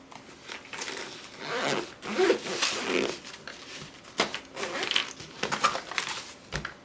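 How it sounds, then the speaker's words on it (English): A zipper draws closed on a travel art bag for watercolor gear, several quick rasping pulls with fabric rustling and small clinks between them, close and fairly quiet. "I'll zip this guy up."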